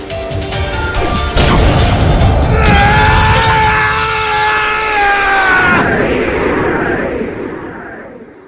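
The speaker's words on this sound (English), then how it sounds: "My monster attacks! Infernity General attack!" Infernity General's monster attack effect in Yu-Gi-Oh Duel Links: a loud crashing smash and boom followed by a rising, sustained synthetic tonal swell that fades out over several seconds.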